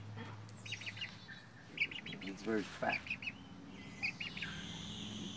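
A lone surviving meat-bird chick chirps in a series of short, bright peeps close by, interspersed with someone speaking and some quieter quacking in the background.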